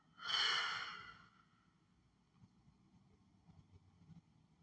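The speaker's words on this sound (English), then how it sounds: "Just inhale and exhale." A slow, soft breath in a quiet seated meditation: one airy, breathy exhale or sigh lasting about a second, then faint low background rumble and stillness with no talk.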